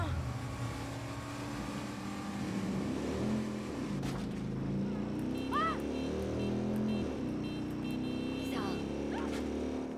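A motorcycle engine in the video game Watch Dogs 2 drones and revs up and down steadily, with a voice talking over it throughout.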